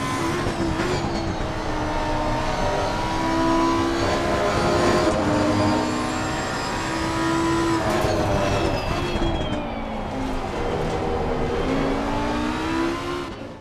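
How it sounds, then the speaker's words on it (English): A Lamborghini Huracan GT3 Evo2's V10 engine in Assetto Corsa Competizione screams loudly and continuously, climbing through the revs with quick upshifts and sustained high-pitched wails, close and dominant throughout. "The trademark V10 engine is the sweetest of the 3 cars in my opinion"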